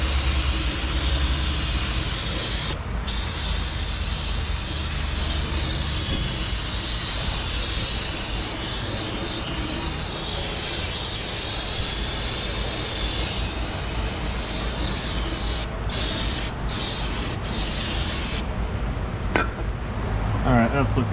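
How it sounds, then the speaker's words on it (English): Cleaner sprayed in a steady, sustained hiss into the open differential housing of a GMC 2500 truck, flushing out old gear fluid, close and loud with brief pauses near the end. "Let's give this thing some spray. Get as much of the old fluid out as we can."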